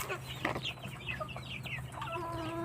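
Crossbreed Rhode Island White chickens clucking close by, a run of short, soft clucks and chirpy calls over a low background hum, ending with a longer drawn-out call.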